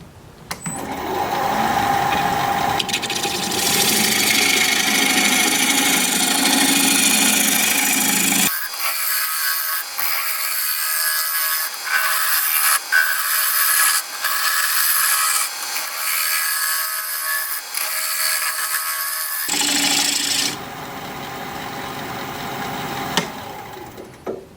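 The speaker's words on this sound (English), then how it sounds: "it's sure cutting nice, making lots of nice curls" A cherry bowl with pecky holes spins on a wood lathe as a gouge cuts curls, a loud continuous scraping hiss that breaks into rhythmic intermittent cuts midway, then returns to a steady shear.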